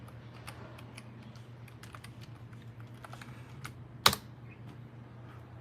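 Keystrokes on a computer keyboard while logging into a Debian system on a Raspberry Pi cluster, a quiet run of soft taps over a low steady hum, with one sharp louder clack near the end.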